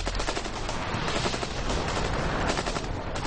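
An AK-47 assault rifle, rated at 600 rounds per minute, fires a loud, continuous stream of fully automatic shots at close range with no pauses.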